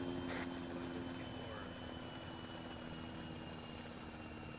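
A helicopter engine idling in a video game, a steady loud drone and rotor hum running continuously with no change in level, with a brief higher whine near the start.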